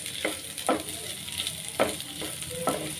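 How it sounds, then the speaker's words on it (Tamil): Broad beans and onion sizzle in a pan while a spatula scrapes and stirs them in a few distinct strokes over a steady hiss of frying, close up with no talking. "அவரைக்காய் போட்டு நல்லா வந்து வதக்கி விடுங்க."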